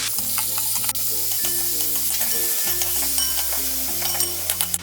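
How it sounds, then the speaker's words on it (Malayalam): Garlic and mixed vegetables sauté in a pan for egg fried rice, with a steady sizzle and constant stirring scrapes close by. Sustained low musical tones play underneath. "ഇതോടൊപ്പം ഈ എടുത്ത് വെച്ചിരിക്കുന്ന വെജിറ്റബിൾസ് എല്ലാം ചേർത്ത് ഇതൊന്ന് വഴറ്റി കൊടുക്കാം"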